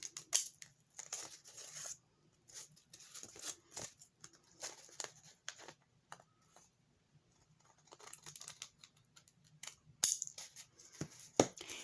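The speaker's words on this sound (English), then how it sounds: "I'm going to use my pinking shears, and I'm going to just hold the pages together" Pinking shears snip through held-together book pages in short, crisp bursts separated by quiet pauses, with faint paper rustling between the cuts.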